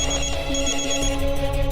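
A phone rings with an electronic ringtone melody, loud and close, playing continuously with no voices over it.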